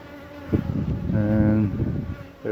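Honeybees on a beehive frame being filled with nectar and pollen give off a close, steady buzzing drone that swells briefly in the middle, with no talking.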